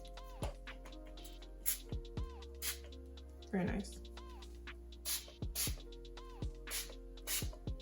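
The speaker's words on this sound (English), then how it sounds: "This is the matte finish setting spray." Several quick, hissing spritzes of a Wet n Wild matte finish makeup setting spray come in short bursts at close range, with a brief spoken remark among them.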